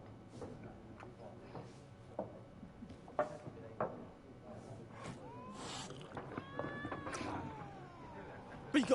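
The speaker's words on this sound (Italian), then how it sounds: "Gatto." A cat in The Witcher video game meows and caterwauls in several drawn-out cries, with game sounds and some speech around it at moderate loudness.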